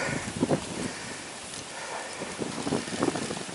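Gusty storm wind roars and buffets the microphone, a broad rushing noise that rises and falls in surges, outdoors near donkeys and farm buildings.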